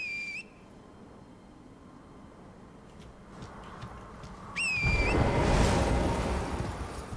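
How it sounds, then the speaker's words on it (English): Player character whistling in the video game Elden Ring, two short rising whistle calls several seconds apart over a low outdoor ambience that swells into a loud rushing gust after the second call. "it wouldn't have let me whistle if I couldn't use it."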